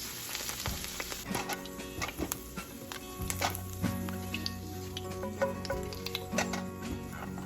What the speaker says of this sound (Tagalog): Okay, ilagay na natin tong patatas. Iprito lang natin ito ng konti.